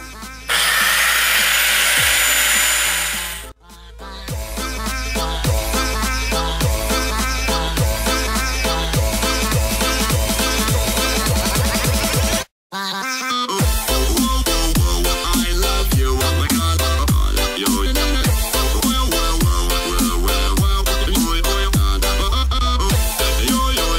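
Power saw cutting a homemade wooden sword shape from a board, a loud continuous buzzing rasp that runs steadily for the whole stretch, with one brief pause near the middle.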